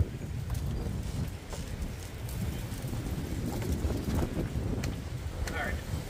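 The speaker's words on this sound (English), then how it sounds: "I'm just going to pause because this wind's getting really bad." Strong wind gusting outdoors during a truck intake install, buffeting the microphone with a low, continuous rumble and occasional bird chirps in the background, with no speech.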